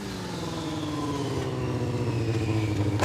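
A motorcycle engine revs and climbs in pitch, getting steadily louder and closer with a rough, pulsing exhaust note.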